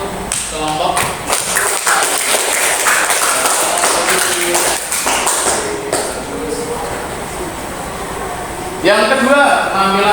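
Students in a classroom applaud a group, a scattered burst of clapping and thumps that builds and fades, with voices talking over it.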